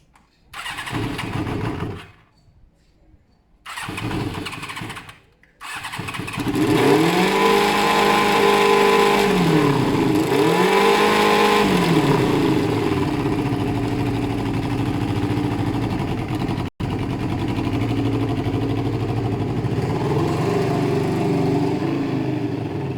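A flooded BMW F650 motorcycle engine cranks in two short, failing attempts, then sputters to life and runs roughly, revving up and down with a loud, nearby rattle.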